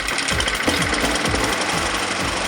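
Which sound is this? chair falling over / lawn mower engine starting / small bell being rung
lawn mower engine starting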